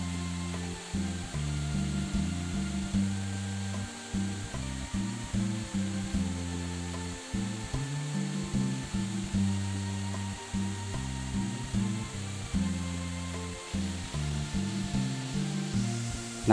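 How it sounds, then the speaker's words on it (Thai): Strong flow at Tad Kuang Si waterfall, Luang Prabang, Laos, roaring in a dense, constant hiss of falling water that holds a steady loudness, with no voices present. "น้ำไหลแรงดีครับ"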